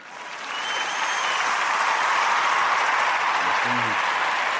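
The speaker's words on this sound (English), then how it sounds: "She brings applause everywhere she goes." An audience bursts into sustained applause that swells within the first second and holds steady and loud, with a brief low voice murmuring underneath near the end.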